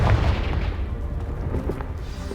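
The Confringo explosion spell in Hogwarts Legacy lands as a deep, rumbling boom that rolls on and fades, with scattered debris crackles trailing behind it.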